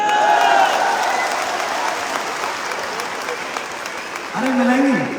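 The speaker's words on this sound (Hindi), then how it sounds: "तालियां मिलेंगी?" A crowd at the MahaKumbh 2 speech event claps continuously and fairly loudly, with a voice calling out briefly over the applause near the end.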